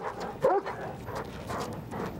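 A police dog gives a single sharp bark near the start while out on a trail with officers, followed by quieter movement and rustling outdoors.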